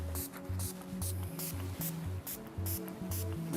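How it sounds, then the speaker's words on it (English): SSS Super Shine Spray is misted over naturally curly hair in a series of short, crisp hissing bursts at a steady pace, with soft tonal music beneath. "So we take SSS Super Shine Spray, and we're just going to lightly layer it down over the hair."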